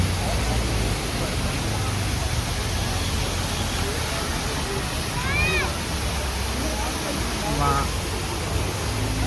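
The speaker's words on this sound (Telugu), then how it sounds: "చిన్న వాటర్ ఫాల్." Steady broadband rush of a small waterfall near Munnar fills the scene continuously, with a couple of faint bird chirps rising above it midway.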